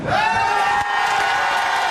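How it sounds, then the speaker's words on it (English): A victorious government caucus of MPs cheers loudly, a dense burst of crowd shouting and whooping filling the room, brief and close, with a sharp break midway before the roar continues. "With the caucus feeling so victorious, they cheered regular old MPs too."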